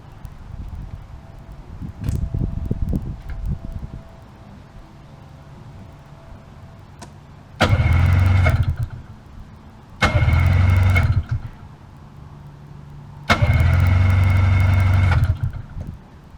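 A 1994 Yamaha Vmax 600 snowmobile coming out of summer storage cranks and sputters, then fires in three loud, rough bursts of engine running, each lasting one to two seconds with quieter gaps between.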